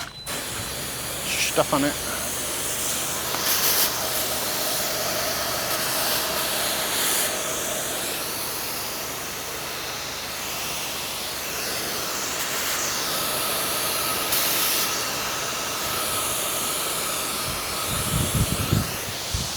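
Water spray rinsing a house after soft washing a shingle roof in Tampa, a steady broad hiss running nearly throughout, with a voice speaking briefly over it.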